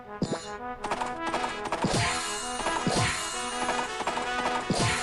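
Repeated heavy thuds and clattering knocks of a horse kicking in a mobile video game, at a rough, even rhythm, with booming impacts over a busy, tonal background of game music.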